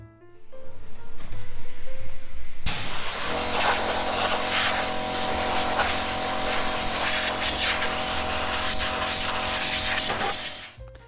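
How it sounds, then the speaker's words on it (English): An air compressor nozzle blasts dust out of a Yamaha RX-V371 audio video receiver, a loud continuous rushing hiss that kicks in sharply after a short lower hum and holds steady for several seconds before cutting off. "So we're going to have to blow that out with a air compressor."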